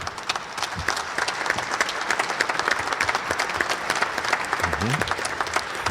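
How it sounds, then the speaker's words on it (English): An audience at a cybersecurity conference in Minneapolis gives a CISO panel a round of applause, a dense, steady burst of many hands clapping that carries on for several seconds. "I think we could give our panelists a big round of applause."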